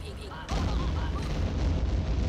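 Enemy blowing apart in the Minit video game: a sudden loud booming burst erupts about half a second in and holds as a dense, rumbling roar to the end.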